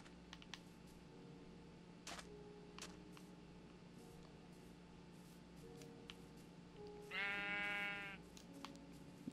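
In the Minecraft video game, a single clear sheep bleat rises near the end over quiet game ambience with faint clicks.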